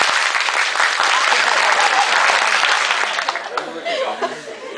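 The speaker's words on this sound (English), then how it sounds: "Clap." A group claps enthusiastically in a dense burst of applause, with some chuckling mixed in, before the clapping thins out and fades.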